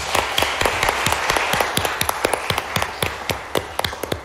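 An audience at a law school trial advocacy competition final round applauds. A dense, full wash of clapping gives way to sparser, sharp individual claps as it tapers off.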